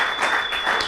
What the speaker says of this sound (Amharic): ሞቅ ያለ ጭብጨባ እንግዳችሁን ጋብዙ